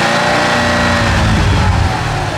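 A Corvette Z06 engine revs loud and close, its deep rumble mixed with a rushing intake roar that holds steady across the moment.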